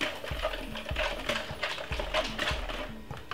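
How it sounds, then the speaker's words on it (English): A whisk working cheese sauce for broccoli in a bowl makes quick, rhythmic metallic clinks and scrapes, repeated strokes at a steady pace, close and quiet with no talk. "Give it a whisk."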